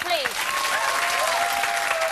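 Studio audience applause for Sammy, a broadband wash of clapping and crowd noise filling the whole moment, with a host's voice speaking over it.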